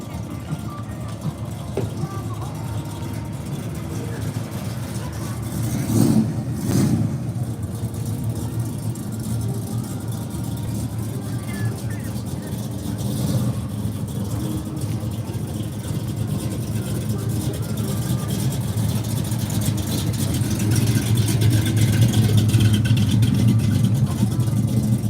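A classic Chevrolet Chevelle rumbles along at a car show, its engine a steady, low droning growl that swells slightly louder toward the end, with people talking nearby.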